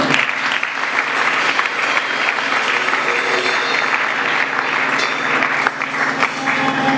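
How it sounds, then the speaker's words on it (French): A church congregation applauding and cheering, sustained dense clapping from a large crowd in a hall, loud and steady for several seconds without letup. "Est-ce que vous pouvez acclamer pour vous-même?"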